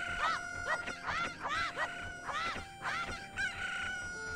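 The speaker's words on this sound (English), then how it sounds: "Alright, there's a chicken." A chicken in The Legend of Zelda: Ocarina of Time gives a run of sharp, repeated clucks and squawks, bright video-game bird calls over a steady background music tone.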